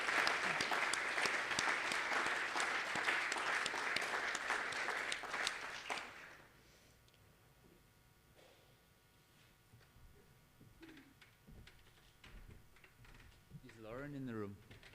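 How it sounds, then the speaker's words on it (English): A room of attendees gives a round of applause for a steering committee at a closing session, steady clapping for about six seconds that then stops abruptly, leaving quiet room noise with scattered faint sounds and brief murmuring. "if we just as a room give them a round of applause"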